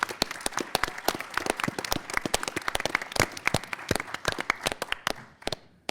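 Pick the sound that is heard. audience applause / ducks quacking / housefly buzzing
audience applause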